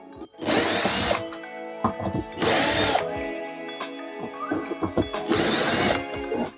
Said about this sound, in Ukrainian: Зараз я просверлю потаї